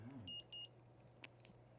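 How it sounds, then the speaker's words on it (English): An insulin pump gives a confirmation signal of two short, clear electronic beeps close by in a quiet room, followed by faint handling sounds. "And that beep means it worked."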